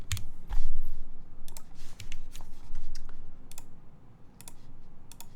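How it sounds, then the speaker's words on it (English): Clicky keystrokes on a Keycult No 1 Rev 2 TKL mechanical keyboard with stainless plate, including the spacebar, land in irregular bursts of sharp taps over a steady low background hum, close and moderately loud. "I do like the sound of spacebar on this though"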